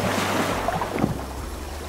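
Swimming through water in the dinosaur game Saurian, a soft steady wash of splashing and surf-like water noise with a couple of brief sloshes, moderately loud.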